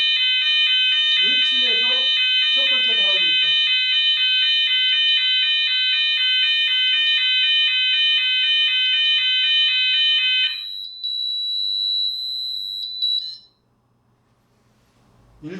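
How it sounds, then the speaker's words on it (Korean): A KS standard fire alarm siren from a fire alarm system demonstration, a loud continuous electronic tone held steady for about ten seconds then cutting out, with someone speaking briefly over it. "사이렌이 울립니다. 1층에서 첫 번째 발화되어 있다."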